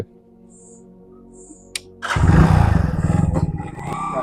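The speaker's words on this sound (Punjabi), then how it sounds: "ਮੋਟਰਸਾਈਕਲ ਆਉਂਦਾ ਡਿਆ ਬੁਲਟ" A Bullet motorcycle comes in abruptly after a quiet stretch, its engine thumping loud and near with a rapid pulsing beat as it approaches.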